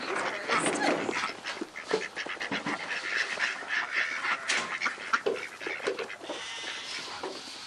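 A flock of farm turkeys crowds onto freshly poured feed during evening chores, filling the air with dense, continuous clucking and chattering calls close to the microphone.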